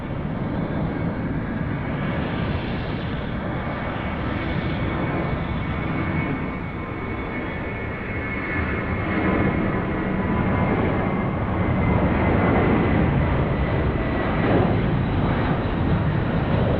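A Malaysia Airlines jet arrives at Sydney Airport at night with a loud, broad engine roar that rumbles steadily and swells slightly as it nears.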